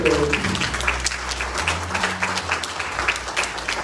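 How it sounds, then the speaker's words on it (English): A church congregation breaks into steady applause, many hands clapping together in a dense, continuous patter that fills the room. "Someone give God a hand clap of praise today."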